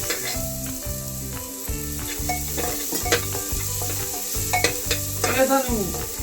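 Onion, ginger and garlic frying in a pan, a steady bright sizzle with rhythmic scraping and clanking of a spatula stirring against the metal, close and continuous.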